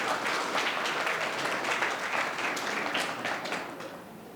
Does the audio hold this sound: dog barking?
no